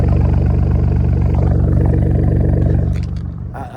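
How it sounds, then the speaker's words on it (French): A BMW M4 convertible rumbles loud and close with a steady low engine drone and harmonic tone, easing off slightly near the end. "la voiture est arrivée, je vais juste écouter"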